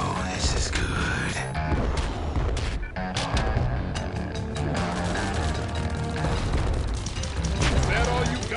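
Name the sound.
bomb explosion in the video game OTTTD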